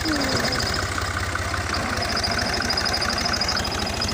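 A tractor engine idles with a steady, loud, low-pitched chugging rhythm that continues unbroken throughout, with faint background noise and no clear speech.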